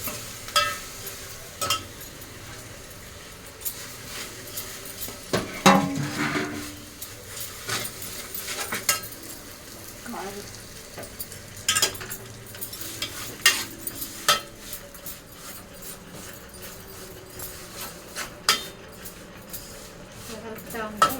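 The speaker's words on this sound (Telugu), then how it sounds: "ఇలా వేస్తూ కలుపుతూ ఉండాలి." A spoon stirs and scrapes through food in a pan on a home stove during a festival meal, giving intermittent metallic clinks over a soft, steady sizzle.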